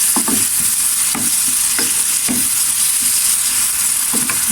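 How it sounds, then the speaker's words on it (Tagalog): Tomatoes seasoned with salt and pepper are stirred in a pan, giving a loud, continuous frying hiss broken by repeated scraping strokes of a spatula at an uneven pace. No one talks. "Tapos haluin natin."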